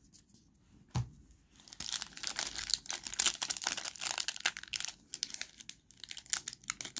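Close crinkling and tearing of a foil trading card pack wrapper, a sharp rip followed by several seconds of crackly rustling and crumpling.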